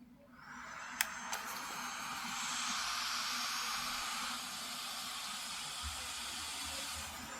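Cooling fan of an RG476H handheld running at full blast, a steady close airy whoosh that swells after a couple of faint clicks and then holds level.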